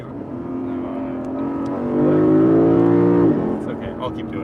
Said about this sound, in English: If you like the sound of this V8